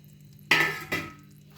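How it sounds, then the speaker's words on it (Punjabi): Peanuts tipped into a pan while making til peanut ladoo, giving two short rattling pours, a louder burst then a smaller one, close by with no talking. "ਹੁਣ ਆਪਾਂ ਇਹਦੇ ਵਿੱਚੇ ਮੂੰਗਫਲੀ ਪਾ ਦੇਾਂਗੇ"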